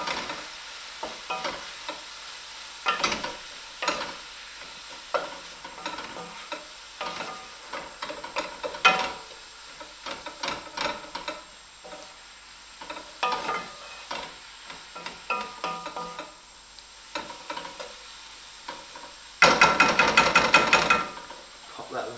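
Chilies, ground coriander and paprika being stirred and mixed in a frying pan for lamb rogan josh, with irregular scraping and clattering strokes over a soft sizzle and a louder hiss near the end.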